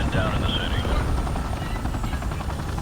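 Helicopter in Call of Duty 4: Modern Warfare, a continuous heavy rotor thrum filling the low end, with people talking over it and faint whistling tones early on.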